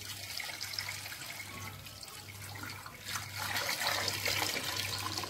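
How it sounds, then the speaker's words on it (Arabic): Water pours steadily into a cooking pot, a continuous close splashing trickle that grows slightly fuller and louder toward the end, with no talk over it. "وغنزيدوا عليه الماء."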